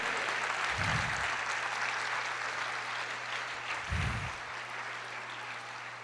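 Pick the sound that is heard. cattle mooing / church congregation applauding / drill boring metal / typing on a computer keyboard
church congregation applauding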